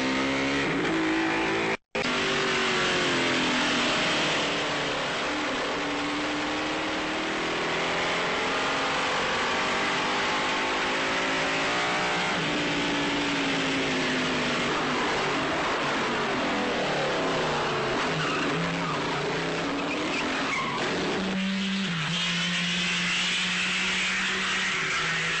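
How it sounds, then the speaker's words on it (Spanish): A racing car engine revs hard and accelerates without pause at close range, its rising and falling pitch sustained with almost no other sound. "Anda bien y el motor suena armoniosamente, el ruido se transforma en música."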